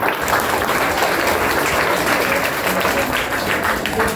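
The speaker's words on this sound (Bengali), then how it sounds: "হাততালি একটা দাও" Schoolchildren at a health camp give a loud, sustained round of applause, many small hands clapping densely and steadily close by.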